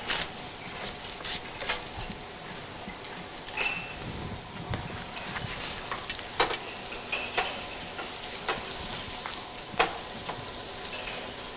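Chopped onion frying with eggplant in a pan, a steady soft sizzle with occasional sharper crackles and stirring scrapes, close and continuous with no talking.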